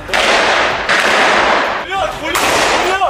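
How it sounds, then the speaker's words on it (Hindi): Loud, sustained bursts of automatic gunfire during an Israeli army operation at Al-Shifa hospital in Gaza, rapid and dense with brief gaps between volleys. "अल शिफा अस्पताल में चल रहे इजराइल के ऑपरेशन के वीडियो में वो हमास के लड़ाकों पर फायरिंग करते नजर भी आए।"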